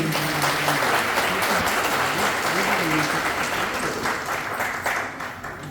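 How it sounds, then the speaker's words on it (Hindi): A crowd at a public health awareness event gives loud, sustained applause for a sponsor, steady clapping throughout that fades slightly near the end, with some voices underneath. "धन कुमार विश्वकर्मा, तो प्लीज इनके लिए एक जोरदार ताली होना चाहिए"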